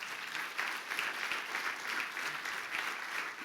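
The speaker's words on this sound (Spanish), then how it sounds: "Eso merece un aplauso de ustedes también." A church congregation claps together in a dense, even burst of applause, moderately loud and steady, with no voices over it.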